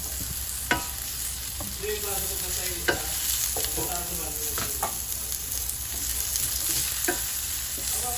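Onions frying in a pan for a salmon pakbet, with steady sizzle and a string of sharp scraping stirs of the utensil against the pan, close and fairly loud, no talk.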